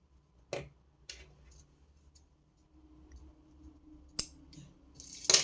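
Craft wire is snipped with a few crisp, sharp clicks spaced apart, the last ones loudest and closest, against a quiet background.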